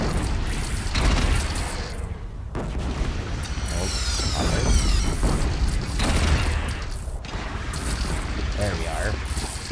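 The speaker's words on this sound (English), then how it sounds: "Take up a cannon!" Cannon fire and explosions during a battle in the video game Horizon Zero Dawn, heavy booms and blasts over dense continuous combat noise, with voices shouting over the fighting.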